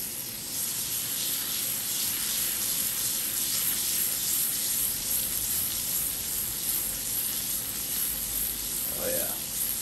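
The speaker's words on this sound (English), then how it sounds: "Give it a shake so you can swirl in the butter." Sole fillet pan-seared in butter gives a continuous bright sizzle and hiss while the pan is shaken. The sound stays close and steady for the whole stretch.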